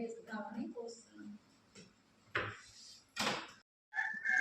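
A hen clucks close by in a home yard with short, uneven calls early on, followed by a few sharp, loud knocks and brief pauses.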